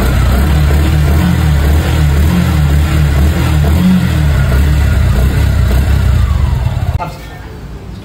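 A Suzuki Gixxer motorcycle with a single silencer runs close and loud, its engine droning and revving steadily before dropping off near the end, with someone talking over it.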